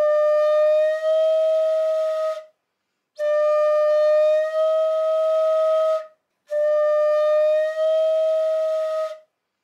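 Shakuhachi bamboo flute plays a sustained kari note with the head tilted away to lower pitch, three long breathy tones separated by short pauses, each holding steady and close.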